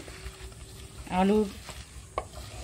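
A kajoli fish curry with potatoes is stirred and mixed in a sizzling pan, giving soft frying hiss and scraping with a brief voiced sound partway through.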